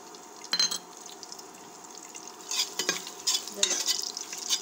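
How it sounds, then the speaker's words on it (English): Pounded masala and broken bay leaf frying in a pan for veg biryani, a soft sizzle with intermittent spoon strokes against the metal growing busier toward the end. "Give a stir."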